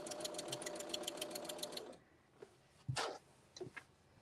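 A sewing machine runs a quick rhythmic burst stitching quilt-as-you-go strips of black fabric, then stops, followed by a few soft handling knocks and clicks.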